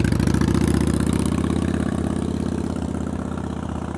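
A motorcycle engine throbs steadily at low speed during slow-speed riding practice in North Carolina, a close, loud, even pulsing idle-like rumble with slight throttle variation and no talk.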